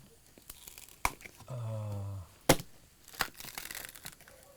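A piece of bamboo is being cut in two at a fair in India. Sharp, loud cracks are separated by a sustained grinding, splitting stretch, and scattered crunching follows.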